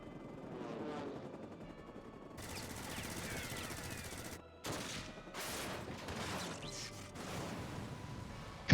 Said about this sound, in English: Cutscene bullets. So powerful.